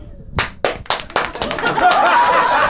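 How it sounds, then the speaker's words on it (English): A few scattered claps at first, then a small crowd joins in with brief, modest applause nearby. "By a show of applause, how many things Shivangi is right?"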